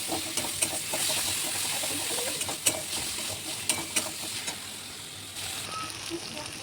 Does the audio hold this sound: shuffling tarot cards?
no